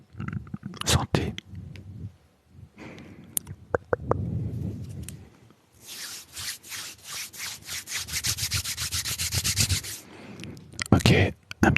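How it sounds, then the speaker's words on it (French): Hands rub briskly together to warm up, giving close, dry swishing strokes in short bursts and then a longer sustained rub, with a few soft knocks between. "Je me frotte les mains pour les chauffer."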